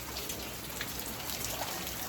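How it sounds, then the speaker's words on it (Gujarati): Summer rain falling in a village near Bhavnagar, a steady soft patter of drops on surfaces, close and continuous at low level with no voices. "અને ભર ઉનાળે વરસાદ ચાલુ છે"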